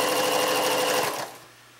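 A sewing machine stitches fabric for a pair of pajama bottoms, running steadily and loud for about a second before slowing to a stop, with only faint room hum afterward.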